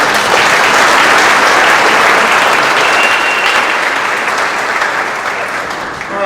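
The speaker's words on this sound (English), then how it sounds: "if we could get a round of applause for these guys" An audience at a high school baseball awards ceremony gives a sustained round of applause, a dense close clapping that slowly tapers off toward the end.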